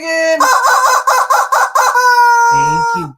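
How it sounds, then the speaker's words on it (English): A rooster crows loudly and close by in a long, pulsing call that breaks into clucking notes at the end. "Chicken warning. Chicken."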